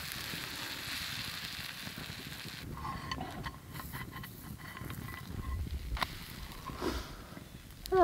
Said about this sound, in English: Get some butter melting in my pan.